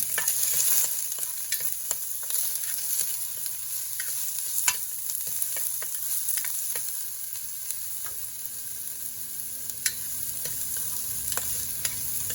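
Onion and garlic sizzle steadily in a hot pan as the base for lugaw, a broad frying hiss with scattered sharp crackles and occasional stirring scrapes, heard alone and fairly close throughout.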